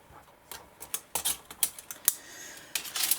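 Scissors snip through taped paper scene pieces for a snowglobe, cutting several layers at once; a series of crisp, uneven clicks and short cuts, close and fairly quiet, with no talking.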